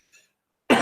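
A single sharp cough bursts out close by after a moment of near silence, preceded by a faint brief sound.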